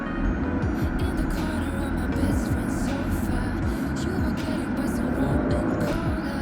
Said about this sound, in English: I'm going to show you as I rev up the car